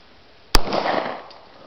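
A homemade hand cannon fires once outdoors at a can tossed into the air, giving a single sharp, loud blast followed by a roughly second-long rumbling decay, with no talk.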